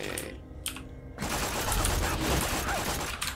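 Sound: grenade in video game Borderlands 2

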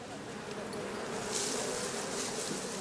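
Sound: swarm of honeybees in Berlin

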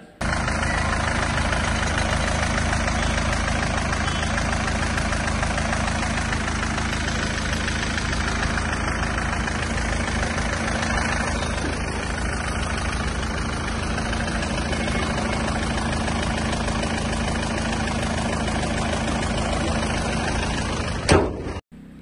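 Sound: diesel car engine idling

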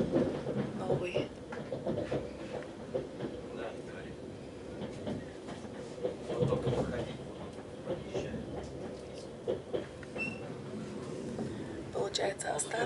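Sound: Lastochka electric train moving, departing Adler station

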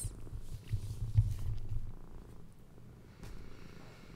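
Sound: cat purring on lap

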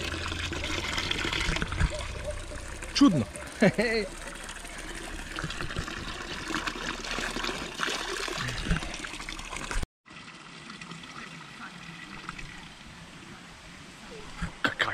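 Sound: water running from a public fountain

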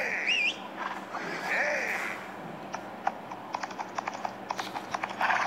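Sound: horse hooves clip-clopping in Old West Gunfighter video game

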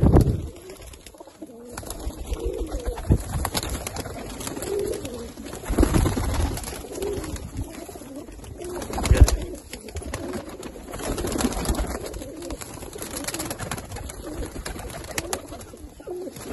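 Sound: pigeons cooing

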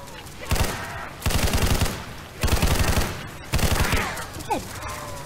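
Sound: gunfire from a gun in a zombie video game

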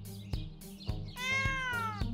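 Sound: cat meowing

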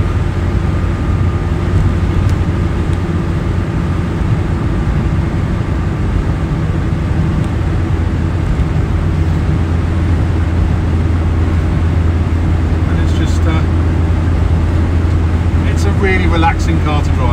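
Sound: 1967 Citroen DS 21 Pallas driving

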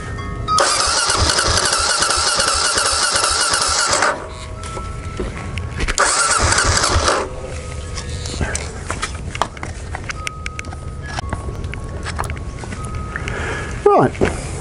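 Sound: Kawasaki KLR650 motorcycle engine cranking and starting

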